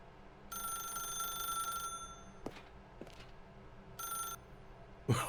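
A telephone rings in the video game The Stanley Parable: a long electronic ring, a pause, then a shorter second ring. Fairly quiet, with faint clicks between the rings and a brief thump at the end.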